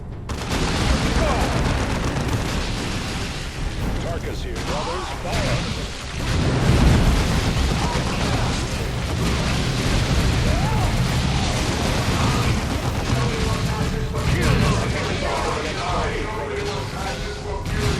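Explosions and combat noise from the Warhammer 40K Dawn of War II strategy game, a dense, continuous roar of blasts and gunfire layered with voices, loud throughout with a heavier surge around the middle.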